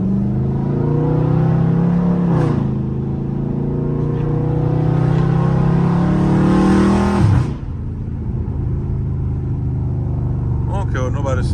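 A Dodge Scat Pack's engine revs and accelerates with a deep, rising growl, loud and close, then eases off into a steadier drone; voices can be heard around it.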